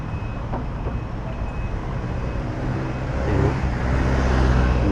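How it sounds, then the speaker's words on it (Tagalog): Motorcycles pass in busy traffic on a road toward Makati, heard as a steady broadband traffic rumble that swells louder toward the end, with no talking. "Ayan na, nagdatingan na yung mga motor"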